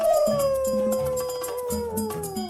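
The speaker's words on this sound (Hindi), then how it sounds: "ये तो लोमड़ की आवाज है।" A fox howling along with a pack of foxes, a long wavering howl layered over a chorus of yips and cries beneath a musical backing, steady and moderately loud with no speech.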